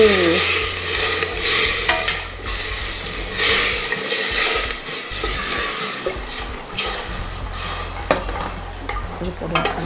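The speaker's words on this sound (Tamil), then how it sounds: "அடிப்பிடிக்காம நல்லா பதமா கிளறணும்." A spoon stirs roasted ground masala in a hot pan for country chicken soup, with steady scraping and stirring over a soft sizzle and a few clinks of the utensil.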